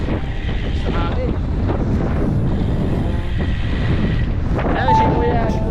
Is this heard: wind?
yes